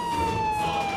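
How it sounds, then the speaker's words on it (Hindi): Ambulance siren sounding a steady, loud electronic tone with harmonics, brief and close, with no voices. "एम्बुलेंस"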